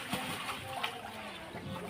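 White ducks bathing in shallow water, splashing and dribbling continuously in soft, close bursts, quiet overall with no talk.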